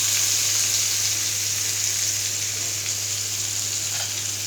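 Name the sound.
chopped onion frying in oil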